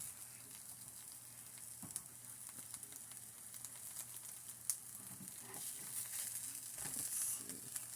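French toast sizzling in a frying pan, a faint, steady hiss of frying with small crackles and occasional utensil taps, fairly quiet throughout.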